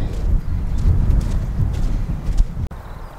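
Horses graze and move about in an open pasture, with steady low rustling and soft hoof thuds under light wind, no voices and a brief sharp knock near the end.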